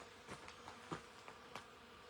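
Bees buzzing outdoors on a cactus property, heard as faint, brief, scattered buzzes that come and go over a quiet background, with no voices.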